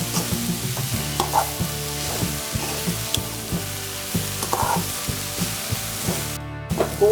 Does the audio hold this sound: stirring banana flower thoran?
yes